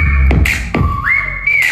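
A clear, close whistle holds a steady note, then slides up to a higher pitch, broken by a few short breathy bursts.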